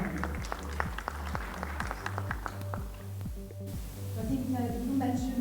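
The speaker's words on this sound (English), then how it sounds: "Give a roaring round of applause for Miss Annie." An audience applauds a speaker taking the stage at a talk on mobile and digital wallets, steady clapping mixed with thumping walk-on music and a voice.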